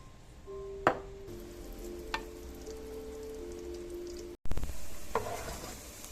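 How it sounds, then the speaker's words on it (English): Onions and garlic frying in a pan for an eggplant dish, a steady close sizzle with a couple of brief stirring clinks and a louder burst near the end. "turn up onions and garlic, frying at the end."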